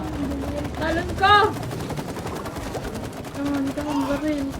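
Rapid bursts of video-game gunfire in It Takes Two crackle under excited talking and shouting, with the firing coming in quick repeated volleys.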